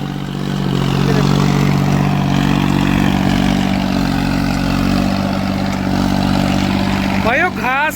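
A John Deere 36 HP tractor running in a farm field with a sugarcane weeder, its engine giving a steady, loud, low drone throughout, with a brief rising mechanical whine near the end.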